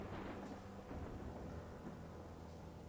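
Thunderstorm outside a clinic: a steady, dense wash of rain and low rumbling thunder, distant and muffled, with no voices.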